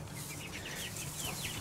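Meat chickens clucking in a pasture stall on a farm, a steady low mix of soft clucks and calls running through the whole moment, fairly quiet and close with no talk.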